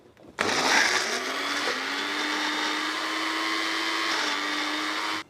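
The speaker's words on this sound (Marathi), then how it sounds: "पाणी जरी वापरलं तरी देखील एकदम छान फाईन असं हे सुद्धा आपल्याला वाटून घ्यायचं आहे" A kitchen mixer starts with a sharp jolt and then whirs loudly and steadily, grinding coconut, onion and coriander with water into a fine paste, before cutting off abruptly.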